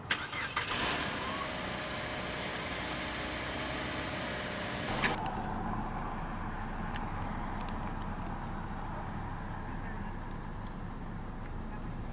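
A 2006 Mazda MX-5 Miata Grand Touring engine cranks and catches, then settles into a steady idle rumble that continues evenly for several seconds.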